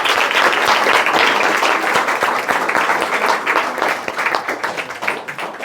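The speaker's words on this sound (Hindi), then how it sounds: "कुछ लोग ताली बजाने के शौकीन भी बहुत होते हैं।" Audience applause at a gathering honouring candidates selected in a UP Police written exam, loud sustained clapping from many hands close by, dense at first and thinning slightly toward the end.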